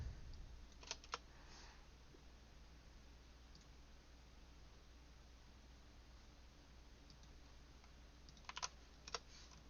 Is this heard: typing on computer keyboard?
yes